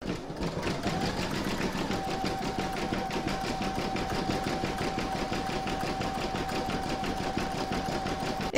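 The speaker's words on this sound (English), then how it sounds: "Next, you're going to stitch the bottom section with round number 11." An embroidery machine stitches the bottom section of an in-the-hoop mandala placemat with a steady, close mechanical whir and rapid needle chatter that runs unbroken from start to finish.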